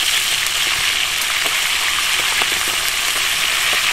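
Food double frying in hot oil, a loud, steady sizzle and bubbling that fills the whole stretch without talk.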